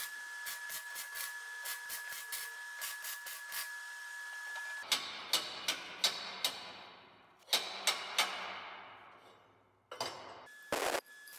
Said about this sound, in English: I'm using the same welding sequence here while welding it solid.